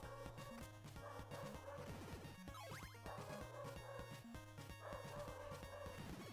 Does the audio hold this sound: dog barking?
yes